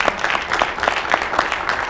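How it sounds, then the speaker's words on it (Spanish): A church congregation applauds during a Spanish-language sermon. It is dense, fairly loud, steady clapping with a slightly rhythmic pulse, and no talk over it. "Denle otro fuerte aplauso al Señor."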